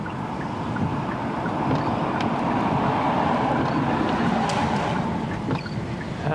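Gusty wind roars steadily during a storm chase in northwest Texas, kicking up blowing dust, a dense continuous rush with faint knocks and no talking.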